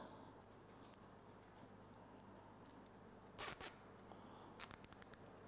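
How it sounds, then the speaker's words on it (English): A plastic zip tie is pulled tight around the cam chain on an Arctic Cat 7000 engine, producing a couple of short, close ratcheting zips followed by a few quieter clicks against a faint background hum. "take a zip tie"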